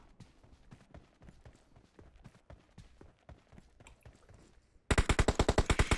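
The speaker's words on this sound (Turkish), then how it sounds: "Şurada bir çatışma." Heavy automatic gunfire erupts in a PUBG Mobile firefight on the Livik map, a loud rapid burst of evenly spaced shots following quieter scattered distant shots and movement.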